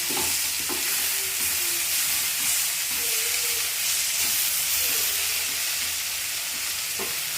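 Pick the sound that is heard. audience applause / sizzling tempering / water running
sizzling tempering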